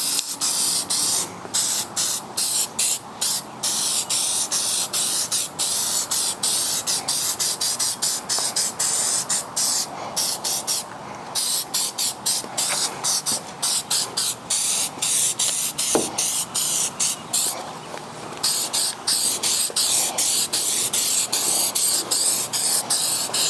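A spray gun lays a heavy second coat of automotive paint, a loud close hiss in rapid repeated bursts separated by brief gaps throughout.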